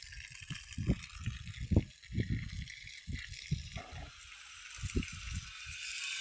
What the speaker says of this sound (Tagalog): Ang lakas ng tubig dito.